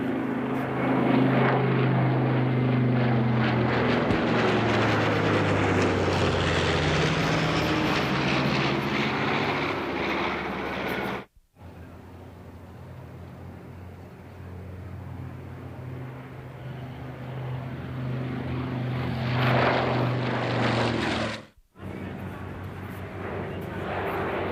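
Propeller-driven B-25 bombers flying over an antique airshow, a loud sustained droning roar of piston engines that swells and fades in long passes, broken by two abrupt cuts.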